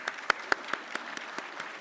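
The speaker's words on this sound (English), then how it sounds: "Please give a huge round of applause." Scattered applause greets dignitaries being invited onto the stage at a diamond jubilee ceremony, with a few sharp, close claps standing out over a soft, steady background of clapping.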